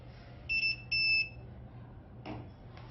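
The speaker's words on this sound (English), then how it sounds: "So the beep sound is, the reading is stable." Two short electronic beeps from a pH/conductivity meter signalling a stable reading, high-pitched and clear, sound close together against a quiet room hum, followed by faint rustling.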